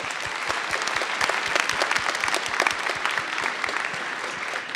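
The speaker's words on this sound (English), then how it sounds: "So let's give another round of applause." A conference audience at a Python developer gathering applauds in a steady, full round of clapping that stays even and sustained throughout, with no voices over it.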